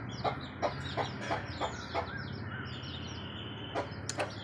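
Hens clucking in a garden bird cage, a mother hen with her chicks among them, giving a series of short, fairly soft clucks at irregular intervals with chirps over a low background hum.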